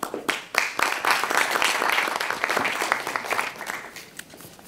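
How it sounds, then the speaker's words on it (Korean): A conference audience at the 2014 Jeju Forum applauds to welcome a speaker to a session on the Jeju healthcare town, with steady, full clapping from the hall that briefly swells and then tapers slightly. "박수로 맞이해 주십시오"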